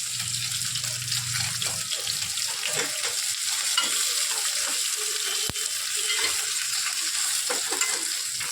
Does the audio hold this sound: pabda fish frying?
yes